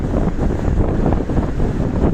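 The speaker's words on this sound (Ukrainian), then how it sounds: "Зараз настільки вітряно, настільки тут такий шторм." Strong storm wind roars and buffets the microphone continuously, a dense low rumble with gusting surges and no pauses.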